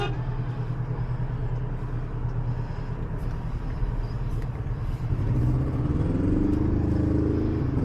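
Another vehicle approaches along a residential street, a low engine rumble growing louder and deeper near the end, close by.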